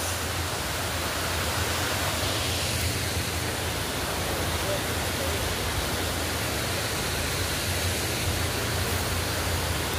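Waterfall at Bye-bye Falls, a dense, constant roaring rush of water filling the whole stretch at steady loudness, with no distinct voices standing out.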